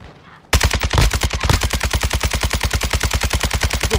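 Rapid automatic rifle fire from an RPK in a video game shootout, punching through a house wall, a loud, close, relentless stream of evenly spaced shots starting abruptly and continuing without pause, no voices.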